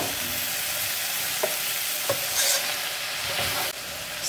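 Sesame oil goes into freshly harvested food frying in a pan on an island farm, and a loud, steady close sizzle follows. A few clinks and stirring scrapes sound through it.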